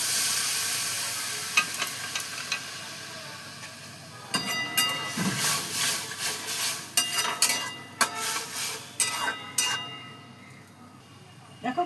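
Raw tamarind simmering with a splash of water in a pan, quiet at first, then bubbling and sizzling with scattered scrapes and stirring clinks against the metal through the second half.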